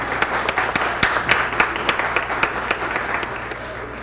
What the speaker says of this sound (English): When the applaud sign goes on, you applaud